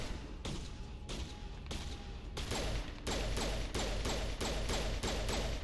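Rapid gunfire in a Mass Effect video game, loud repeated bursts of shots that speed into a steady, fast rhythm of cracks over a continuous background rumble.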